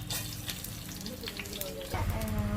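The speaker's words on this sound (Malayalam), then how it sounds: "ഇനി നമുക്ക് അതിലോട്ട് ഒന്ന് എണ്ണ ചൂടായതിനു ശേഷം നമുക്ക് അതിലോട്ട് നമ്മൾ കടുക് ഇട്ടെടുക്കാം" Mustard seeds sizzle and crackle in hot oil in a pan while a kootu curry is prepared, a close, steady frying hiss that grows slightly louder near the end.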